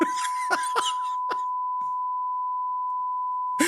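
A loud continuous censor beep tone holds for nearly three seconds over a spoken phone number, following a few clipped words and a short cough in a podcast setting, then speech resumes right at the end.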